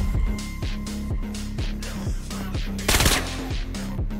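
Rapid automatic gunfire from the Vail VR shooter game rattles in a steady, fast rhythm of close, loud shots, with a heavier burst near the end and no talking.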